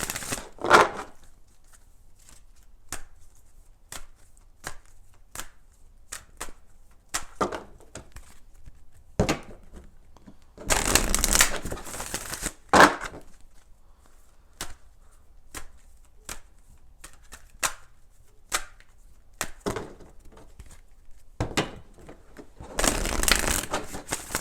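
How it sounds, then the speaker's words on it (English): An oracle card deck is shuffled in short crisp bursts, a longer riffle-like rush twice, spaced with sharp taps and slaps, close and alone with no talk. "Let's do 3 shuffles for Gemini"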